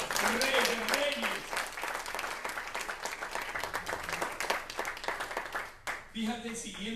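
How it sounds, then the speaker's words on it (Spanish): A church congregation claps for the King of Kings during a sermon, with quick, steady applause running throughout under a sustained voice or music. The sound dips briefly near the end, then the clapping and the voice return. "Vamos a dar un aplauso a ese Rey de Reyes."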